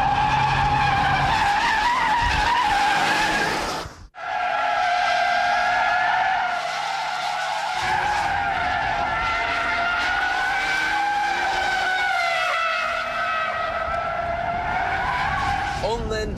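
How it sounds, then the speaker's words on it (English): Front tyres of a rally-style car squeal and skid in a long, loud drift, a sustained shrieking howl over engine roar that briefly cuts out and then resumes and holds steady. "Watch the smoke pouring off those front tyres."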